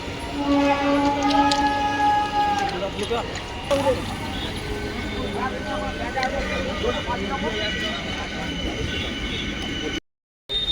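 A train runs along the line at Shibaichandi near a vegetable market on the Howrah–Bardhaman route, a loud continuous rumble with long horn-like tones early on while people talk nearby.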